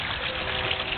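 Water trickles and gushes steadily in a specially built backyard koi pond, a continuous close, moderately loud splashing flow with no break.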